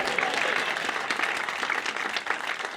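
A live storytelling show audience applauds steadily and densely throughout, a continuous wash of many hands clapping at even loudness with no speech over it.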